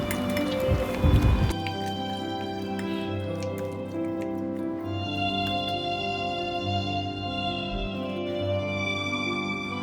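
Chicken pieces stirred and mixed by hand with spoonfuls of cumin and coriander powder for a palak chicken, giving soft wet squishing and dripping sounds, a louder burst near the start, then quieter steady squelching, with no talk.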